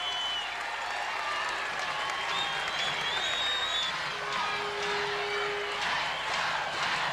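A basketball crowd at a 1998 ABL Finals Game 5 between the Long Beach Stingrays and Columbus Quest keeps up a dense wash of cheering and clapping, with whistles and shouts rising out of the arena noise.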